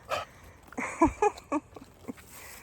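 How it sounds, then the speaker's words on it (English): A dog huffs and pants close by, a few quick breathy bursts with small whimpering yips mixed in, no talking. "That panting you hear is this one."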